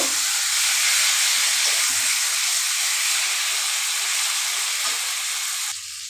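Magur fish poured into a hot pan, giving a steady loud hiss and sizzle that continues evenly before tapering slightly at the end.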